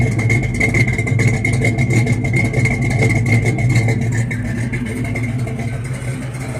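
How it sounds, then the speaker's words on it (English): A 1969 Buick Skylark engine idles steadily and loudly up close, a continuous low rumble with a smooth, even pulse and no revving or talk over it. "It's the new idle sound."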